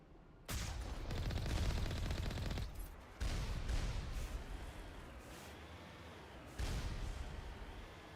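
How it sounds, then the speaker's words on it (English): Video game turret firing amid a blizzard, three long roaring bursts of rapid heavy gunfire separated by brief gaps, loud and close, with no talk. "That was a turret firing off."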